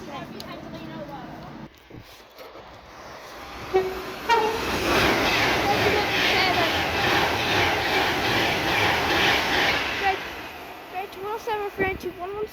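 A train passes through Lockerbie station, with a soft rumble building into a loud, broad roar that peaks midway and then fades, a brief horn toot near the end, and voices talking at the start and close.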